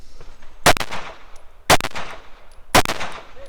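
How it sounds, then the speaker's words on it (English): Three sharp, loud pistol gunshots close by on an obstacle course shooting stage, roughly a second apart, each cracking and then decaying briefly. "making what's going to be his final pistol engagement here"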